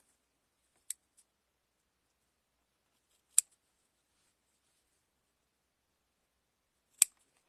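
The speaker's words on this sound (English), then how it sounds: "I'm going to cut the little corners without hitting your thread" Scissors snipping the small corners of fabric pieces for a mug bag: three sharp, isolated clicks spaced a few seconds apart, close and crisp against a quiet room.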